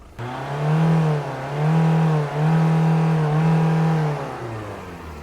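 A Volkswagen Golf Plus with 350,000 km on it is revved up close. The engine climbs, holds and drops back in about three smooth surges before settling toward idle, with no talking.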